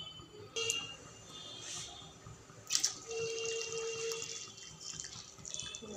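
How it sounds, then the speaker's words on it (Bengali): Roughly two litres of water poured into a cooking pot for dal-and-cauliflower khichuri, a soft running trickle with a few splashy drips, close and fairly quiet. "দু লিটার মতন জল দিয়ে দিলাম"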